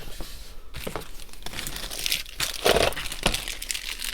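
A plastic bag of Mr. Potato Head toy pieces crinkles and rustles up close, with repeated crisp crunches and tearing-like scrunches throughout, and no one speaks.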